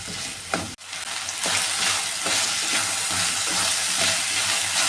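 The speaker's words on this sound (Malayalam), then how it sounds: "ഇനി ഈ വെജിറ്റബിൾ ചേർത്ത് കൊടുക്കാമേ. ഇതെല്ലാം കൂടെ നന്നായി ഒന്ന് വഴറ്റിയെടുക്കാമേ." Vegetables sauté in a pan for theeyal: a loud, continuous close-up sizzle with brief stirring scrapes and a short dip where the pan is moved, then steady frying with no talking.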